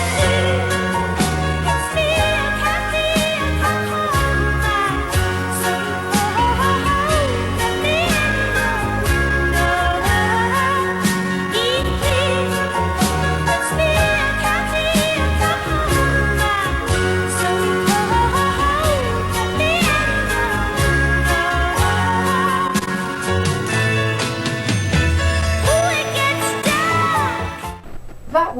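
Recorded music plays back from an Akai reel-to-reel tape recorder running at 3 3/4 inches per second, a dense full-band mix that plays continuously and steadily throughout.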